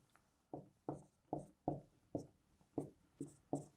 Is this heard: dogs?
no